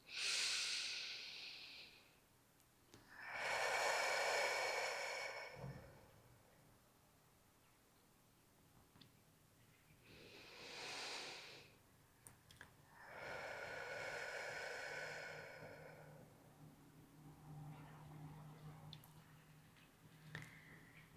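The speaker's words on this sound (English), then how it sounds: "A few more breaths here, belly breaths." Slow, deep belly breathing during a wellness yoga flow: long, close airy inhales and exhales in steady cycles, each drawn out over several seconds with quiet pauses between, no talking.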